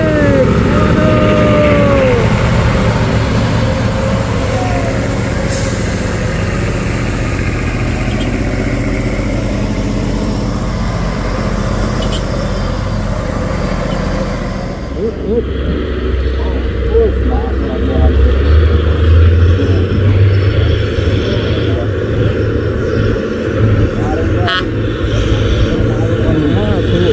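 Loud, heavy diesel engines of trailer trucks labouring up the steep Bukit Kodok incline, a continuous deep straining roar that shifts as one truck passes another, with people talking over it.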